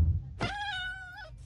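A single cat meow in Minecraft, drawn out for about a second with a falling end, clear and close over faint background noise, with no voices.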